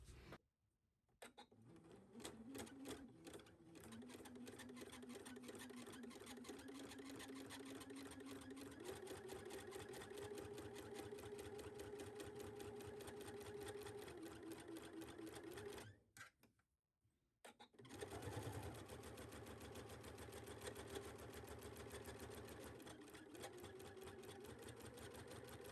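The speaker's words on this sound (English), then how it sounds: "we are going to take this to our machine and shear across each" A sewing machine stitches across the pattern lines of a bodice piece, a steady close mechanical whir with a rising motor pitch and one short stop midway before it runs on again.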